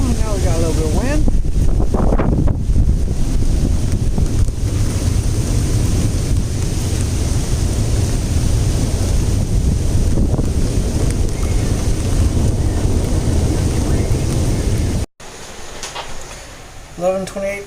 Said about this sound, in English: Now we got a little bit of wind.